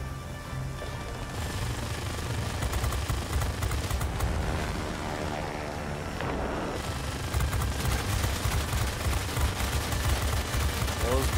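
In World of Warplanes, aircraft machine guns chatter in long, dense rattling bursts over a steady roar of engines and battle noise, loud and continuous throughout.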